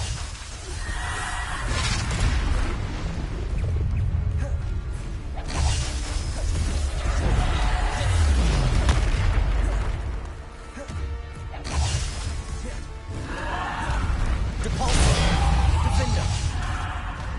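Bombarda and Depulso spells cast in Hogwarts Legacy: repeated whooshing blasts and crashing impacts in rapid succession, loud and busy, with a voice talking over them.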